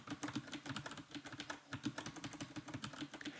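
Cursor keys on a computer keyboard are tapped rapidly and steadily, a close, continuous patter of clicks with no pauses and no speech.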